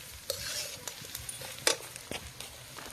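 Onions fry softly in a pan outdoors in a garden, a faint sizzle under sharp clinks and scrapes of a spatула stirring, with intermittent taps against the pan.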